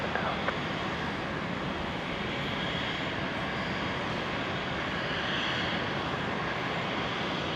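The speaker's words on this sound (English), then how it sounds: "the flight surface checks going on this Embraer, which is just about to begin its taxi" An Embraer jet sits at Brisbane International Airport just before taxiing, its engines giving a steady, broadband roar with a constant whine, heard from a moderate distance without pause.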